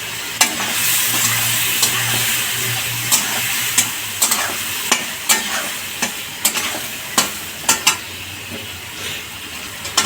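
Cabbage curry with tomato and a pinch of salt fries in a pan with a constant loud sizzle, punctuated by a steady series of sharp scrapes and clinks from stirring, with no voices.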